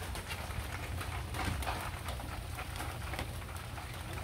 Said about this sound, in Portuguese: Muita chuvarada, tá tudo muito úmido.